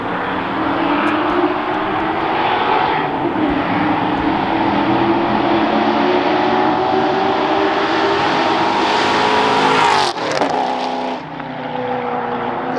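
A Ford Foxbody Mustang fitted with a custom exhaust accelerates hard past the listener, its roaring engine climbing steadily in pitch before a sharp shift and a quick fade as it speeds away.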